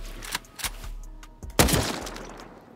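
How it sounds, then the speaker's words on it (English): Several loud AK rifle shots in a shooting video game, a few spaced single cracks followed by a heavier burst near the end, with no talk over them. "Let's try with the AK."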